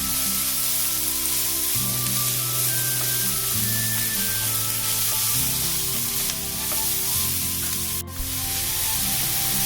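Ingredients for egg chow mein fry in a pan with a continuous even sizzle and hiss, held steady for the whole stretch beneath tonal background music.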